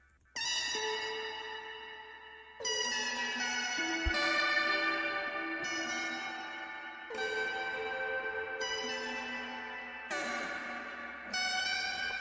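A pitched-up guitar sample plays at steady volume with no automation, bright sustained harmonic chords repeating in phrases about every two seconds, loud and alone.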